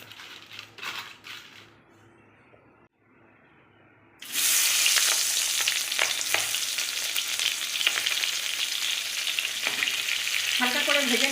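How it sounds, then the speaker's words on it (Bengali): Tiger prawns hit hot mustard oil in a wok with a sudden loud, steady sizzle that fills the second half after a quiet start, a few stirring scrapes near the end. "এবার চিংড়ি মাছগুলো হালকা করে ভেজে নেব।"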